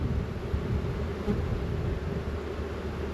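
Bees buzz as a frame is lifted out of a hive set in cantaloupes, a steady close hum with no voices.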